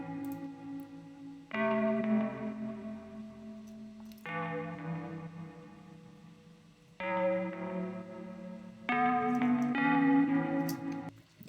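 Sustained synth chords ring through a thin, twangy BX spring reverb from Altiverb, played in separate swells with echoing tails between them and no voices.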